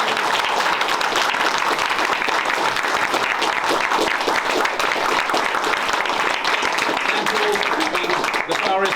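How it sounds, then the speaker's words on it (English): A big, loud round of audience applause in memory of a man at an opening evening, dense and unbroken clapping for the whole stretch, with scattered voices in the crowd. "I hope you'll now give a really big applause"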